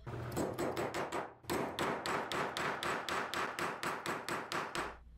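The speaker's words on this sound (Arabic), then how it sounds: "عملت الثقوب وحطيت شويه خشب حشيت بيهم الجيك عشان اعرف ادق الصاموله" Steady hammer blows drive a threaded nut into wood packed around a jack, about twenty sharp close strikes in two quick runs with a short pause between, loud and alone.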